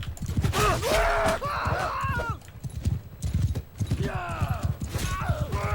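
A horse's hooves clip-clop at a gallop in the Mount & Blade 2: Bannerlord video game, loud and close with whinnies and snorts on top, over a steady game background and no talk.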